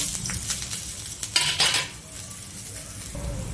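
Gram flour pudla flipped on a pan with a spatula: a few clinking metal scrapes and taps, then a soft, steady sizzle of frying.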